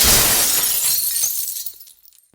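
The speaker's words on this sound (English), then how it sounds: "the mirror that hung on the wall since my high school days" A wall mirror crashes to the floor and its glass shatters in a loud, bright burst, then scattered shards tinkle and settle into near silence.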